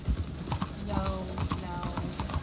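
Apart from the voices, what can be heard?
horse hooves clip-clopping in video game RedM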